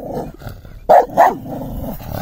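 A dog barks twice, loud and sharp in quick succession, at a zucchini, standing out from a low background murmur, with quieter rustling before and after.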